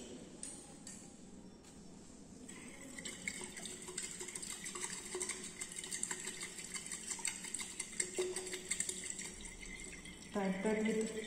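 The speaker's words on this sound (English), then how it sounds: "Titrate with constant stirring, so reaction occurs simultaneously and we got sharp end point." Constant stirring in a flask during a boric acid titration with sodium hydroxide from a burette, faint clinking and swirling under a steady background hum, with a brief louder rattle near the end.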